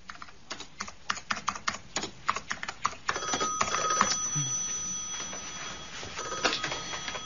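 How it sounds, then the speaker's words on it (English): An office telephone rings in a radio drama set around Oxford, its bell trilling repeatedly over steady computer keyboard typing that clatters in a quick rhythm before the ringing takes over. "Cousins and Timms, Peter Cousins' phone, can I help you"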